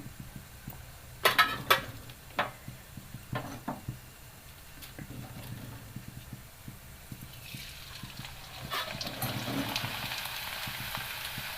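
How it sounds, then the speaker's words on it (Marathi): Batata bhagar kurdai, a potato and barnyard millet fryum, dropped into hot oil with a few sharp clatters, then a steady, rising sizzle of frying that spreads and fills the background. "आता आपण कुरडे टाकून बघू"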